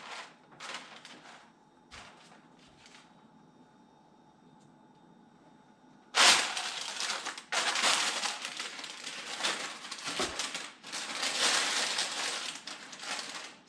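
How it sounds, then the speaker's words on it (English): Parchment paper rustles and crinkles as it is pressed into an 8-by-8 baking pan for croissant dough, soft taps at first, then several loud, sustained crackling bursts close up. "We're going to line this with parchment paper."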